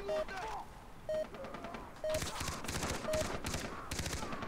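Rapid bursts of gunfire from the Far Cry 3 co-op game crackle in loud clustered volleys, punctuated by repeated short electronic beeps, with players talking over the shooting.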